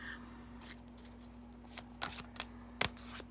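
Tarot cards from a true love reading deck being shuffled by hand, a few crisp riffling bursts and soft card slaps over a steady low hum, fairly close and quiet with no talking.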